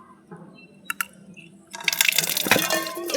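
Water running from a rooftop tap into a container, starting after a few faint clicks and knocks and then a loud, steady rushing splash that continues to the end.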